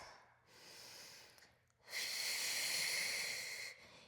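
Deep, audible breaths during an at-home mat Pilates arm workout: a soft inhale followed by a longer, louder hissing exhale, close to the microphone with no talk over it.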